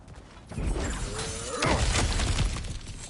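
Cracked ground gives way in God of War Ragnarök, a rumbling crash with debris and a low thud, with a whooshing sweep partway through, set over a dense bed of game ambience.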